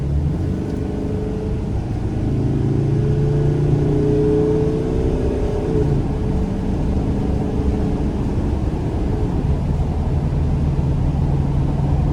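A 2014 Mercedes-Benz Sprinter 2500 conversion van accelerates out of a corner, its engine drone climbing in pitch then settling into a steady cabin hum with road noise, no talk.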